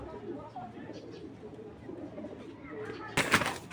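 A racing pigeon coos softly under quiet background talk, low-level and close, before a brief sharp rustling noise cuts in at the end.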